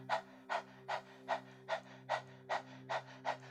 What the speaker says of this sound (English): we can begin by kind of panting like a dog